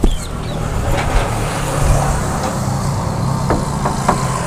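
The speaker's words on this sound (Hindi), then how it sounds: "इस गाड़ी में हमने जो इंजन का फिटिंग किया हुआ वो है महिंद्रा D8 इंजन" A used Mahindra D8 diesel engine fitted in a modified Mahindra Thar jeep runs at a steady, loud, close idle, rumbling evenly with a few faint clicks and knocks and no talking.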